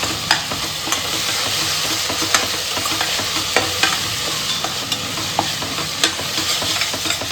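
A paste of coconut, ginger and garlic sizzles loudly in a pan for veg pulao, with a steady frying hiss and the close scrape of a spoon stirring at irregular intervals, no talking.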